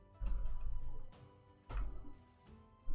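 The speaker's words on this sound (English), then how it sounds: "Oh, Steve is typing." Computer keyboard typing comes in two close, clattery bursts of rapid keystrokes separated by a short pause, with a third burst starting at the end.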